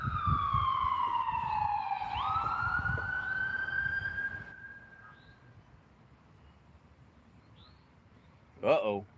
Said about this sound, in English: got the ambulance coming